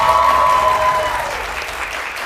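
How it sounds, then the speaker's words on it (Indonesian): Studio audience applause at an Indonesian TV political talk show, a steady burst of clapping from a crowd that stays fairly loud and then thins slightly toward the end. "tepuk tangannya boleh?"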